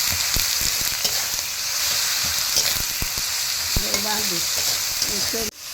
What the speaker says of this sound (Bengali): এবারে আমি মশলাটা কষি